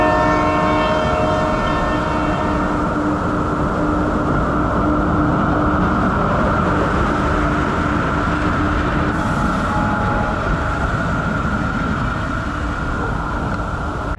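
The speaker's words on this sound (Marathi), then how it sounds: "त्या बोगद्यातून आता ट्रेन एंटर करून राहिली आहे" A train enters a tunnel near KP Waterfall in Khopoli in the Sahyadri hills. A loud, steady rumble of wheels and cars runs throughout, with tonal horn-like lines early on and no talk.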